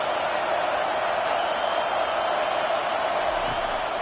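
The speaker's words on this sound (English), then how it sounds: "Big 3rd down as the crowd gets behind this defense" A college football stadium crowd roars on a big third down, rallying behind the defense with a dense, continuous wall of cheering that holds steady and fairly loud throughout.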